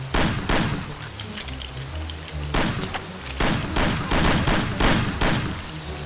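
Rapid gunfire from a shootout in the video game Mafia, bursts of loud sharp shots in quick irregular volleys with heavy thuds, firing almost continuously with no voices.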